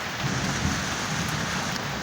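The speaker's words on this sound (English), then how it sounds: "thunder is coming" A rainstorm pours down steadily while a low rumble of thunder rolls underneath, the dense hiss of rain on surfaces filling the whole stretch without any talking.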